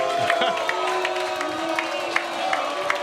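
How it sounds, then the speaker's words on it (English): A large crowd of Jacksonville Jaguars fans at the Pavilion End cheers and whoops in a steady roar, with scattered shouts and claps rising out of the din; voices talk nearby. "a big crowd of Jaguars fans here at the Pavilion End"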